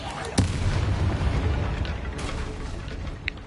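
A Bombarda spell explosion in the video game Hogwarts Legacy, a loud sudden boom followed by a dense, rumbling blast that fills the moment and slowly tails off, with a sharp crack near the end.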